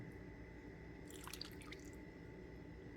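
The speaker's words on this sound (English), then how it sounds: "I'm going to give it a little bit of our broth that is seasoned so well. Pour it over the top." Seasoned Vietnamese chicken pho broth poured over noodles in a bowl, a brief splashing, dripping pour of liquid in a steady kitchen background hum.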